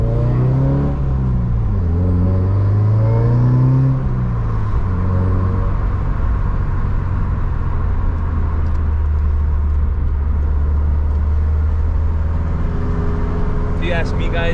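A Subaru WRX with rebuilt heads, new springs, 16 pounds of boost and an aftermarket daily exhaust revs up and down several times, then settles into a loud steady drone nearby, with people talking over it.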